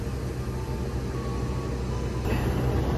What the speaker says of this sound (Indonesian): Ada sebuah kereta yang akan lewat perjalanan Longhut.